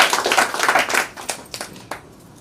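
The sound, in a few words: audience applause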